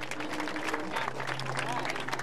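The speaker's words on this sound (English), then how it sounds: "we stand around the track and applaud them" Steady applause from a crowd standing around a track for cancer survivors at a Relay for Life event, a continuous patter of clapping heard at moderate distance with voices mixed in.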